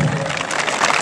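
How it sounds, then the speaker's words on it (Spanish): Crowd applause at a jaripeo rodeo event for the Day of the Dead in San Jacinto, a dense steady wash of clapping close and loud throughout the short moment. "Regálale el aplauso."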